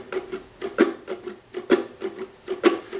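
Muted down-and-up ukulele strumming with sharper, louder accents on beats two and four, giving a swinging, scratchy chop pattern heard up close and without talking.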